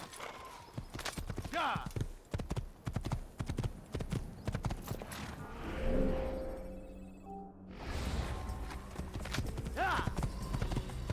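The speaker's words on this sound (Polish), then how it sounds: "Dobra, bierzemy jakiegoś konia." A horse's hooves clip-clop at a gallop in the Assassin's Creed video game, with rapid rhythmic thuds running throughout under game sounds and a voice.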